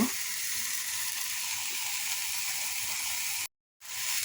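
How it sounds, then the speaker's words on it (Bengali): Water poured into a pan of sizzling fish masala brings a steady, close hiss and sizzle that holds evenly, then breaks off into a brief silence and resumes. "এখানে আমি পরিমাণ মতো পানি দিয়ে দিলাম"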